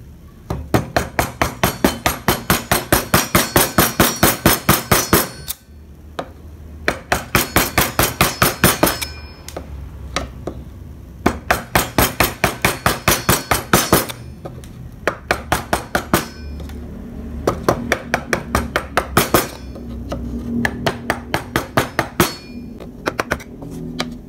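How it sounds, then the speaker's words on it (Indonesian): A wooden mallet drives a gouge chisel into wood for carving, giving long runs of sharp, evenly paced knocks close by, with short pauses between the bursts. "Yang pertama kita pakai pahat kol terlebih dahulu."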